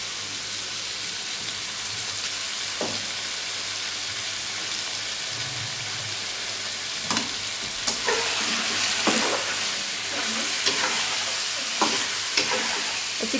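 Chicken pieces with salt fry for a potato chicken curry, a loud continuous sizzle like rain with occasional stirring knocks that pick up toward the end.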